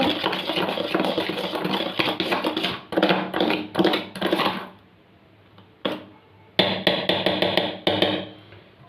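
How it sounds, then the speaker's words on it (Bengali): A whisk beats suji biscuit batter in a bowl with rapid, rhythmic tapping and clattering strokes, close and fairly loud, pausing briefly twice before resuming. "ভালো করে ফেটিয়ে নিয়ে একবার দু তিন মিনিট ধরে ফেটাবে"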